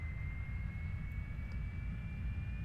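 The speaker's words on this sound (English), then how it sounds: "Let's go ahead and start the number 2 engine." The number 2 engine of a Carenado 390 Premier 1A in X-Plane 11 spools up as a steady jet whine with a constant high tone over a low rumble, continuous and even throughout.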